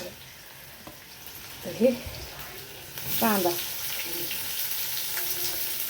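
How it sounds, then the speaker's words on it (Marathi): Green chillies fry in a pan with a soft hiss that grows into a steadier sizzle halfway through. A voice talks over it briefly. "ह्या मिरच्या थोड्याशा तळल्याच्या नंतर कांदा वगैरे घालायचा मैत्रिणींना"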